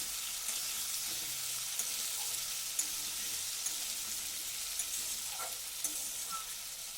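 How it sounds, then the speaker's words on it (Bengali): Potato, onion and tomato sautéing in a pan with a steady, close sizzle, overlaid by faint scrapes and taps as the mixture is stirred. "দিয়ে নাড়াচাড়া করে আলুটাকে একটু সামান্য কষিয়ে নিলাম। খুব লাল করে ভাজবো না, একটু পেঁয়াজের সাথে আর একটু সামান্য কষিয়ে নেব।"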